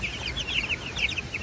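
Chickens in a coop of about fifty young meat birds, Cornish Cross, chirp and cluck in a busy overlapping chorus, with steady rustling underneath and no talk.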